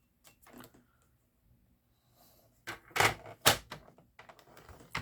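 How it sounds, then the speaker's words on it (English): Dry scraping and clicking as cardstock is pressed and scored along a scoring board, a few faint taps followed by several louder rasping strokes close by. "Now we are going to score it 1/2 of an inch."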